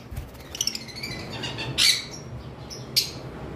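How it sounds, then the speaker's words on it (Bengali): Pet lovebirds giving sharp squawks and quick chirps, several bursts close by over a brief stretch with no talking. "আমাদের কালেকশনে অনেক লাভবার্ড আজকে রয়েছে"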